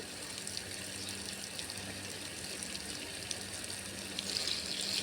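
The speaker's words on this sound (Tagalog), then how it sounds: "Diligan natin ng maraming tubig yung malunggay." Water sprays and splashes in a steady, hissing stream, fairly soft and continuous, from a garden hose watering a moringa plant.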